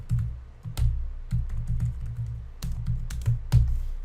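Code is typed on a computer keyboard, a near, uneven run of key presses with brief pauses between bursts, heard alone without speech.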